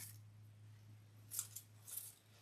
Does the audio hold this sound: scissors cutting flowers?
yes